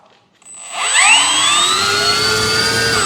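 Electric motor of an RC P-51D Mustang model plane, 1.1 m span, spinning up from near silence into a loud, close, rising whine that settles into a steady high-pitched drone.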